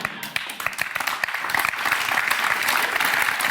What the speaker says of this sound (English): thank you for that nice, polite applause